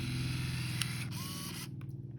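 A Ricoh My Port Super Zoom film camera's lens motor zooms in and out, a steady close whirring drone that stops near the end with a few small clicks.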